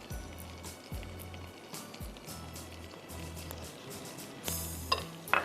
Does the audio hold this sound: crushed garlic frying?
yes